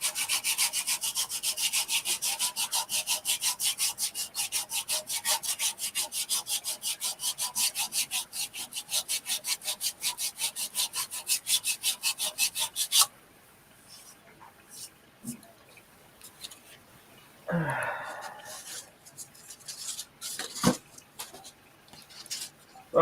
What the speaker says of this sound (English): One thing I hate is hand sanding